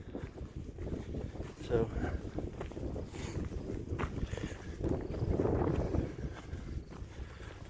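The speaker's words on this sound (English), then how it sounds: "nice and breezy" Wind gusts steadily across the microphone on a hike at Black Mesa, a continuous rushing buffet that swells in the middle, with a voice briefly speaking over it.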